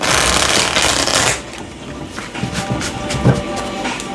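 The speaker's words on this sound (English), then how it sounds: "I'm gonna do another shuffle." Tarot card deck being shuffled by hand, a close, loud riffling burst for about a second and a half, then softer sliding and tapping of cards, with no talking.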